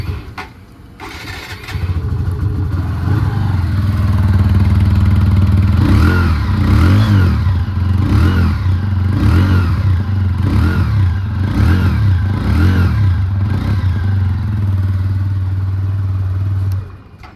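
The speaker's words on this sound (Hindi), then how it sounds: "अब सुनाता हूँ मैं आपको इस बाइक का एग्जॉस्ट साउंड" A 2023 TVS Apache RTR 160 2V motorcycle starts up and its exhaust revs repeatedly in loud, rhythmic bursts, a deep throaty roar close by, with no talking.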